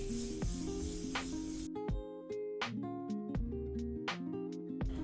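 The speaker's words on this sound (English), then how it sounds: "Now I'm going to move on to spraying my face using the Morphe setting spray" Several short, crisp hissing spritzes of a Morphe makeup setting spray misted onto a face, spaced irregularly, over a quiet background with faint music.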